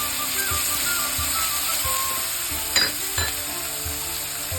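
Vegetables such as capsicum, carrot, peanuts and beans sizzle steadily in a hot pan, close and loud, with a few soft stirring knocks and two brief sharper scrapes partway through.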